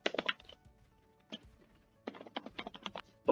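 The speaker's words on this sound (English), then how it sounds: "So I just type it in." Computer keyboard typing while entering a username and password, quick clustered keystrokes in short bursts separated by pauses, close and fairly quiet.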